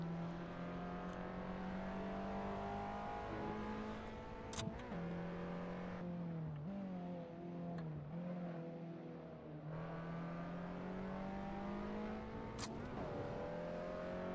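A Nissan Pulsar in Assetto Corsa racing holds a loud, sustained engine drone that dips briefly on gear changes and recovers. Short tyre chirps come through under the steady in-car engine roar, with no speech.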